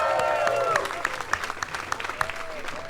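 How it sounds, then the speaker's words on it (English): Applause from a live tennis show audience at the Laver Cup finals, sustained clapping with sharp individual claps standing out, heard under a speaking voice and fading into scattered claps. "So give yourselves a round of applause"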